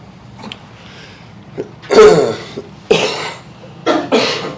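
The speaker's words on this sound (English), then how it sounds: "I have the same cough that everyone else has" Several harsh coughs close up, a couple of single hacks then bursts of two, spaced unevenly with quiet between them.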